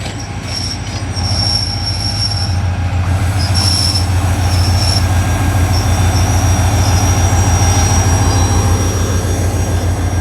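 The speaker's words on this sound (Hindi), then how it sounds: "सेंट्रल मिलत एक्सप्रेस बिल्कुल अपने राइट टाइम पर पहुंचने जा रही है बहावलपुर रेलवे स्टेशन पर।" Central Millat Express, led by an HGMU30 locomotive, arriving at Bahawalpur railway station, with loud, continuous wheel squeal and steady rolling rail noise close by, high-pitched screeches rising and fading over the rumble.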